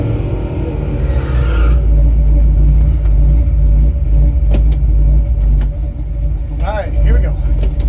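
A race car engine at Music City Raceway rumbles with a loud, steady low drone throughout, and a few brief higher tonal sweeps come near the end.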